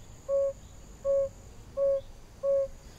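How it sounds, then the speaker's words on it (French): A toad calls from a muddy rut puddle at night: four evenly spaced, steady tonal trills, each about a quarter second long, near and clear over a faint continuous insect hum. "Voilà que notre crapaud se décide à chanter."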